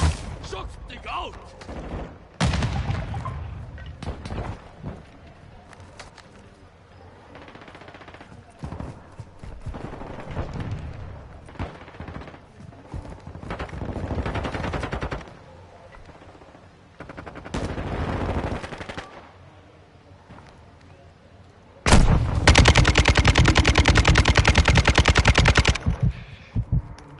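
Gunfire in Modern Warfare 2 multiplayer, bursts of automatic weapon fire coming in clusters separated by short gaps, ending in a long loud sustained volley, with players' voices between shots.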